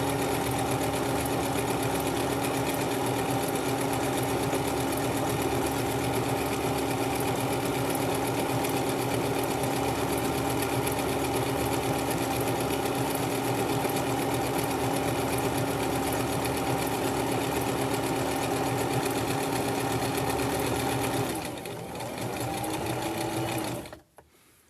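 A sewing machine stitches a fabric headband in a continuous, even whirring run lasting over twenty seconds, then slows and stops near the end.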